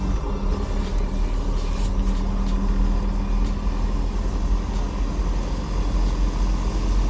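A 4x4 vehicle drives on an icy, snow-covered mountain road, its engine rumbling steadily and loudly near the microphone throughout, a continuous low drone with no clear spikes.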